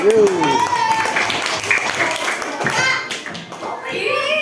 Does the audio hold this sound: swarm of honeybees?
no